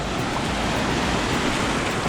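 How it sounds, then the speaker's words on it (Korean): High ocean surf breaking onto the shore of a clear-water beach at El Nido in the Philippines, a steady, loud broadband wash of waves close by, with no voices. "파도도 엄청 높고."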